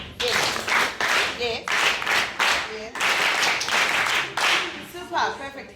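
An audience at a health and mental health luncheon performs a group clap, a rhythmic pattern of bursts of clapping in quick repeated groups, moderately loud, with brief voices between the bursts.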